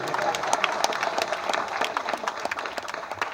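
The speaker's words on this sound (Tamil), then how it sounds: "தம்பிக்காக எல்லாரும் ஒரு ஜோராக கைத்தட்டியிருக்கேன்" Audience applause at a Tamil film audio launch event, a dense, steady wash of many hands clapping together throughout, with crowd noise mixed in.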